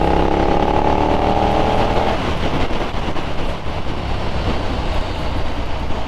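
A KTM SuperDuke 1290 R motorcycle engine pulls hard under acceleration, a loud, continuous roar with rising tonal drone for the first two seconds, then a steady rushing wind-and-engine noise without pause.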